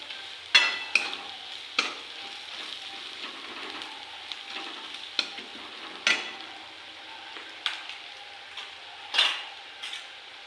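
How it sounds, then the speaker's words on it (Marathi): Curry leaves are stirred into chillies frying in oil for Maharashtrian pithla, a bright crackling sizzle broken by repeated sharp spoon scrapes and taps against the pan, close and fairly loud. "आता यामध्ये आपल्याला कढीपत्ता टाकून घ्यायचा आहे मिक्स करून घ्यायचं"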